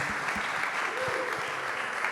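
Steady applause rolls from a conference crowd after a panel discussion: many hands clapping at once, even and sustained, with a few louder individual claps near the front.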